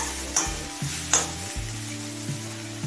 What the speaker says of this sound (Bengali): শিমটা দিয়ে আরো 3-4 মিনিট হাই ফ্লেমে ভেজে নিয়েছি।